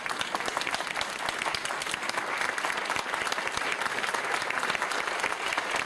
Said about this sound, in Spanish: Por favor, recibamos a Madame Jane Yao como un gran aplauso